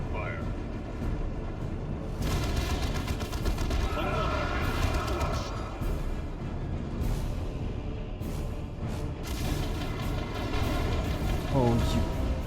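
Rapid gunfire and explosions rattle continuously through a battle in Warhammer 40k Dawn of War II: Chaos Rising, dense and loud, with voices speaking over the din.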